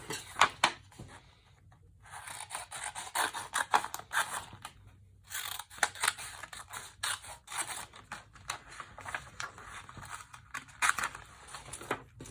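Scissors snipping through a piece of junk mail paper, with a steady series of crisp, close cuts and short pauses between strokes, heard alone without talking.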